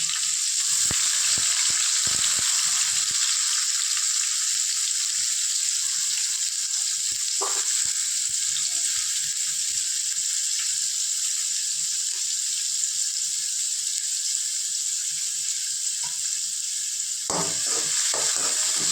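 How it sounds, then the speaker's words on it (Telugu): Garlic and onions fry in oil with a loud, continuous hissing sizzle close by, broken by occasional scrapes and clicks of stirring throughout. "ఇప్పుడు మనకి లైట్ గోల్డెన్ బ్రౌన్ కలర్ వచ్చే వరకు మనం వేపుతూ ఉండాలి."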